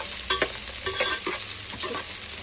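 Onions and green chillies are stirred in a hot pan for bagara rice, a steady sizzle broken by several scraping strokes of a spoon against the metal, close and clear with no talking.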